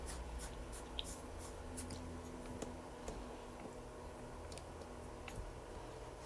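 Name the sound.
writing out x values for a math review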